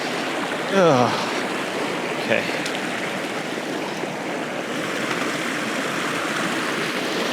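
A river rushes steadily over rocks, a broad, continuous wash of flowing water heard from close by in the middle of the stream, with a voice briefly speaking over it.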